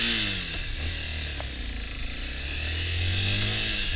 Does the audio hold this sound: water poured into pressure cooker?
no